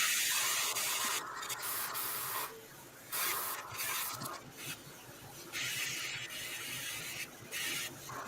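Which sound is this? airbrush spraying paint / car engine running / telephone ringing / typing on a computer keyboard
airbrush spraying paint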